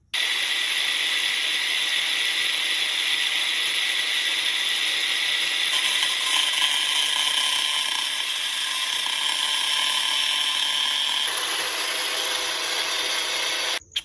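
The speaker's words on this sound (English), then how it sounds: "Let's get the grinder and have a crack." An angle grinder cuts a 46 by 42 piece with a steady, high-pitched whine that holds for about fourteen seconds, its tone shifting slightly as it bites into the material.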